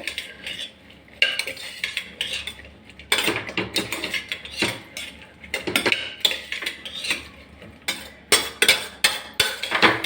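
A metal spoon stirs vegetable pulao in a cooking pot, with continuous scraping and clinking against the vessel, close and fairly loud, with irregular rhythmic knocks throughout.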